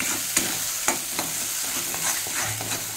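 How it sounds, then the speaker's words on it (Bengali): Food being stirred in a pan until dry, with a steady frying hiss and irregular scraping strokes of the spoon against the pan, close and alone. "শুকনো করে এখন নাড়তে হবে যতক্ষণ শুকনো হবে"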